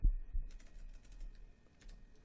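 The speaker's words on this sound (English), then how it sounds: "Let's not waste too much time typing." Someone types quietly on a computer keyboard, with several quick clusters of soft key clicks scattered over a couple of seconds against near silence.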